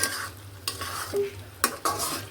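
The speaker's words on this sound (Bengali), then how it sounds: "এগুলাকে নিয়ে একটু কষিয়ে নিব" Chicken with ginger-garlic paste, yogurt, nuts, tomato and spices is stirred and fried in a pan, giving a few loud scraping stir strokes over a continuous sizzle; no talking.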